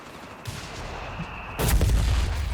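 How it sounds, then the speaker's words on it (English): Mortar fire in Company of Heroes 3, a muffled distant shot followed by a heavy, booming impact that swells and rumbles low over a steady battlefield background. "Mortar incoming."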